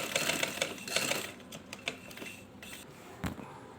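A sewing machine runs a second line of stitching on a garment, a fairly quiet rapid clatter in uneven bursts with short pauses and a few sharper knocks, heard alone.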